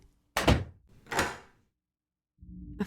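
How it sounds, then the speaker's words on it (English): A door slams shut with a heavy thunk, followed by a second loud knock or latch sound, both close and echoing briefly, then quiet until faint low noise returns near the end. "I slammed the door shut and locked it."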